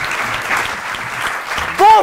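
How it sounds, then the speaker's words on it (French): Audience at a French comedy show applauds steadily for a comedian being introduced, a dense clapping wash heard throughout, with a brief voice rising over it at the close. "je vous demande d'applaudir Monsieur Paul Minero"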